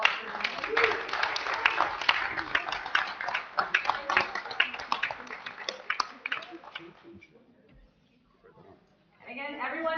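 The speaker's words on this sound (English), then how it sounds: "All right, congratulations, and again, a round of applause." A round of applause at a township committee meeting, with dense scattered clapping for about seven seconds that thins out, a short pause, then a brief burst of clapping and murmur near the end.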